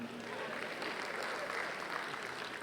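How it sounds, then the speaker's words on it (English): Audience applause at a question session with President Tinubu, a soft, even patter of clapping heard from a distance throughout the short stretch. "Please, a round of applause for the woman."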